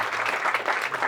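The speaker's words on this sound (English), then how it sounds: "if you'll give them all a round of applause" A short burst of audience applause at a soccer club's uniform unveiling, brisk overlapping claps at moderate loudness.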